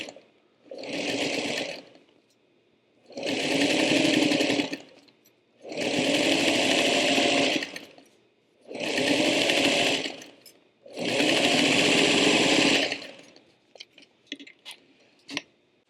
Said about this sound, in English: this over to my sewing machine, and with that same stitch length, I'm going to sew right on this black line.